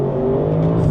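A 2020 Audi RS6 accelerating in RS mode with the gearbox in manual, its engine giving a loud, steady, close-up roar that builds slightly over the second.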